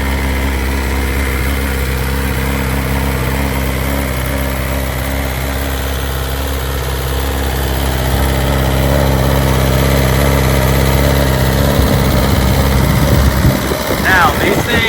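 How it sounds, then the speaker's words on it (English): A Ducati motorcycle engine idles with a steady low rumble after a cold start, continuous and close, with a voice coming in near the end. "Fire right up. That's a little cold start for you."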